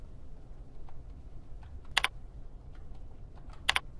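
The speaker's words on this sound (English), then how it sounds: "I'll type the database name and choose my authentication method" Faint computer keyboard typing, soft scattered key taps with two brief sharper bursts of clicks, quiet and close with low background hum.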